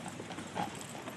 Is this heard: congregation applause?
no